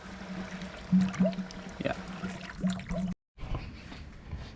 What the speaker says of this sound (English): And now the water pump is cycling.